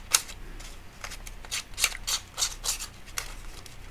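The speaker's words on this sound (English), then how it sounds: "They're obviously quite sharp, these scissors." Sharp scissors cut thin paper in a run of about ten close, crisp snips, evenly spaced and loud, with no talking.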